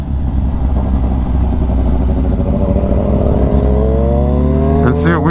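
Superbike motorcycles, including a Ninja H2, CBR1000RR-R SP and ZX10, droning loudly at close range while riding on a freeway, with a sustained engine roar whose pitch rises toward the end as one accelerates.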